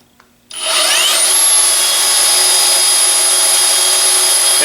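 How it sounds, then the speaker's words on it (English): A portable bandsaw mounted on a SWAG Portaband table starts up after a quiet moment and spins up to a steady, loud, high-pitched whine that holds without pause. "now the bandsaw is running"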